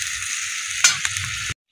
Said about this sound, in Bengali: এই দেখুন বন্ধুরা, মশলা কত সুন্দর ভাজা হয়ে গেছে।